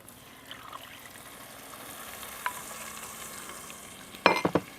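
Water mixed with ground spices for a Kerala-style fish curry poured into a pan, a faint low hiss that swells into a short burst of splashing and sizzling near the end.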